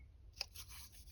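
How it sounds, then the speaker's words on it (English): A single crisp snip of scissors cutting the corner of a piece of paper, followed by faint rustling, close and quiet with no talk. "I want to have this one, but I want to snip the corners."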